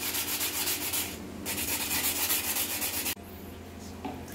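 Sandpaper rubbing over cured epoxy on a carbon fiber skin, a close, steady scratchy rasp in long continuous strokes, pausing briefly before resuming, with no talking.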